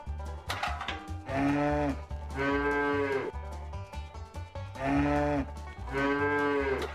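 A cow in the video game Hand Simulator moos twice in long, loud, close pairs of drawn-out lowing calls, with quiet gaps between them.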